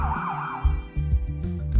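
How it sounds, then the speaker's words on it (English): Police sirens wail continuously as officers close in on a car thief, loud and steady with rising and falling tones across the whole stretch. "he starts hearing sirens in the distance"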